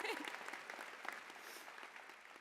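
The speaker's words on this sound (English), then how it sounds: "You can applaud them, yes." Audience applause at a university convocation ceremony for dietetics graduates, a soft, steady patter of many hands throughout, with a voice faintly audible over it.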